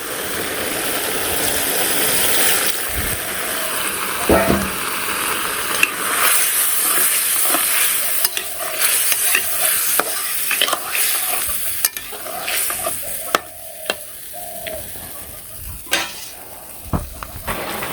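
Bottle gourd stir-fried in a pan: a steady, close sizzle and hiss with repeated scraping and clacking of a utensil against the pan, no talking.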